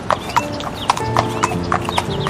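Cartoon sound effect of a horse galloping through a forest on a hunt, with steady rhythmic clip-clop hoofbeats, loud and close, and no talking.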